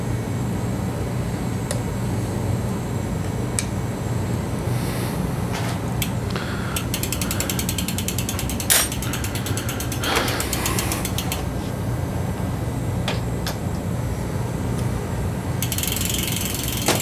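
A ratchet tightens bolts on a bicycle during a tune-up, with short bursts of quick clicking spread over a steady background hum.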